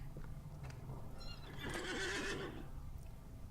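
A horse's neigh in the Lord of the Rings Online game as a mount is summoned: one clear, loud whinny rising and falling over a low ambient background, with faint hoof sounds before it.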